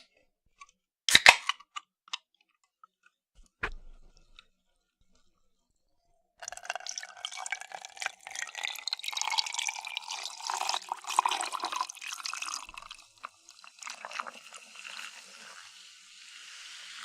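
Liquid poured steadily for about ten seconds, a close splashing stream that tapers off, preceded by a few sharp clicks and knocks.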